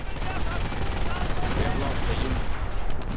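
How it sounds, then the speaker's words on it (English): Artillery fire in a World War II strategy game, loud dense rumbling barrage and crackling explosions filling the whole stretch, with commentary voice mixed in. "And artillery fire straight on the base, clearing out the last Volksgrenadier"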